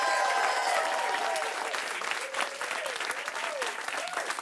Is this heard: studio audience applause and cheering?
yes